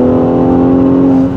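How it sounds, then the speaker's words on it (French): A V6 engine in a matte grey convertible pulls under acceleration, a loud, smooth, steady drone with a strong even tone, heard close up from inside the car while it revs on. "Le V6 il chante bien."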